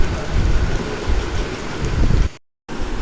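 Oil sizzles and crackles steadily in a wok, close and continuous, broken by a brief moment of silence.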